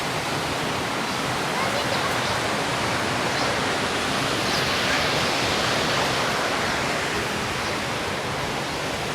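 Water rushing loudly and continuously at a riverside temple site, a broad steady roar with no breaks that fills the whole stretch, close and heavy.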